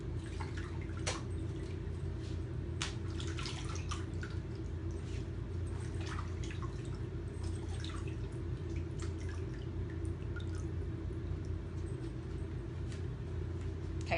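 A chalk paste craft tool is rinsed in water, giving quiet scattered drips and small splashes over a steady low background hum, with no one speaking.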